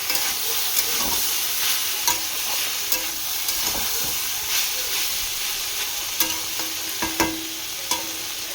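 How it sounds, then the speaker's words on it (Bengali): Vegetables for fried rice fry in a pan with a steady, close sizzle, broken by scattered scrapes and clinks of stirring. No one speaks. "ফ্রাইড রাইসের সবজি ভাজা হচ্ছে।"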